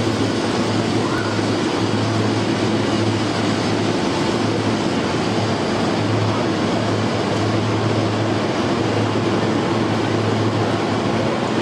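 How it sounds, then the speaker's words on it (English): A Swiss electric railcar running as a dinner train gives a steady, loud, broadband rumble and hum that stays constant and close for the whole stretch, with no voices. "there's an interesting little train here"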